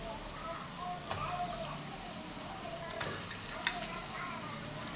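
Chicken for a chicken roast stirred in a pan, a soft, steady frying hiss with faint scrapes and a couple of light clicks, fairly quiet and close.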